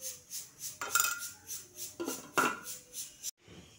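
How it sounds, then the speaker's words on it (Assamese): Rice grains being washed by hand in a pot in a home kitchen: close, rhythmic swishing and gritty scraping strokes about every half second, with faint clinks against the pot and no talk. "এয়া ভাত চাউল ধুই দিলোঁ"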